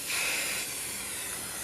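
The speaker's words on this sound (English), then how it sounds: "so I spray away from the image first" Spray paint coats a lid in a short, close aerosol hiss. It is strongest at the start and then settles into a softer, even spray.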